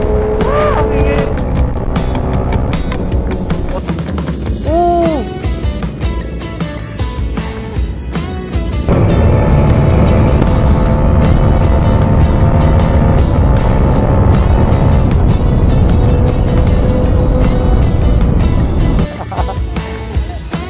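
Motorcycles, including big bikes such as a Kawasaki Z1000, roar past at a club year-end ride in the Philippines, engines revving and rising in pitch before a louder sustained rush of passing machines, with voices around.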